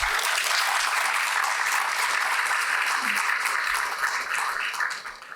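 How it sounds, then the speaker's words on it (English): A warm round of applause welcomes panel members at a public debate on Bengaluru governance. Steady, dense clapping from a sizable audience holds for about five seconds before tapering slightly. "May we please welcome them with a warm round of applause"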